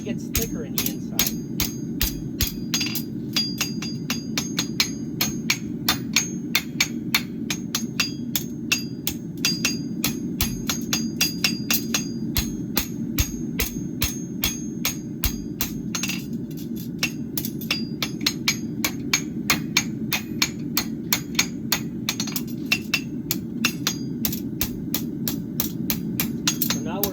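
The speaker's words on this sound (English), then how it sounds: "Always hit the inside, because the inside, when you bend the metal, it gets thicker in the inside." Steady, rapid hammer blows ringing on an anvil as a hot metal bar is bent while making a horseshoe, close and rhythmic throughout, with a low roar of a forge underneath.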